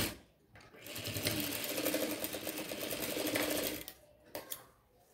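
A sewing machine runs a seam along the lining of a chudithar top in a single quick, rattling burst of stitching, starting and stopping cleanly with short quiet pauses on either side.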